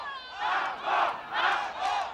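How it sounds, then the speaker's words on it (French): A large crowd outside the Troyes courthouse chants and shouts for vengeance in January 1977, several loud rhythmic surges of massed voices at a distance. "la foule crie vengeance"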